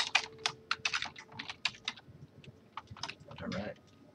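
Quick, irregular keystrokes clatter on a computer keyboard close by, with bursts of clicks and short pauses and a faint murmur underneath.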